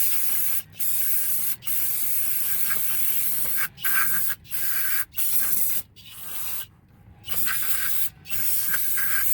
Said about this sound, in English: I want to clean it with some brake cleaner